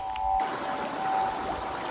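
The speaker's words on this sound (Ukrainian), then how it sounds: "І, звісно, тут річка, яка дає особливого колориту цьому місцю, цьому лісу." A river flows through a forested ravine near the village of Busha, giving a steady, soft rushing and trickling wash of water with no voices.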